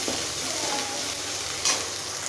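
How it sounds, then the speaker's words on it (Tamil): Ginger garlic paste frying in a pan for vegetable fried rice, a steady soft sizzle throughout with a brief stir near the end, close and fairly quiet. "இஞ்சி பூண்டு பேஸ்ட் சேர்த்து நல்லா வணக்கிக்கலாம்."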